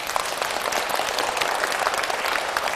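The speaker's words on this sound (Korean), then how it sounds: "주님께 영광의 박수 한번 올려보세요" A church lecture audience breaks into applause, a dense close burst of many hands clapping steadily and alone for a few seconds.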